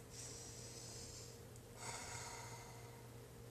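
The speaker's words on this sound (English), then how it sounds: "when we take a deep breath in and out" A slow, deep breath drawn in and then let out, close and soft, two long airy hisses over a faint background hum.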